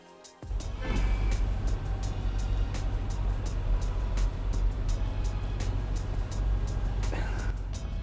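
A Ferrari 458 Spider's V8 engine roars steadily from inside or near the car, a loud, sustained low-pitched drone that rises sharply at the start and holds throughout.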